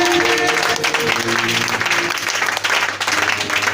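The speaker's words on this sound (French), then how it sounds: "Acclame-le ce matin, s'il te plaît." A church congregation applauds loudly and steadily, a dense wash of clapping filling the room with a faint voice underneath.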